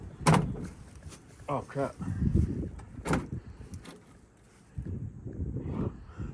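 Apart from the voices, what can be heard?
truck door being opened against large wooden spools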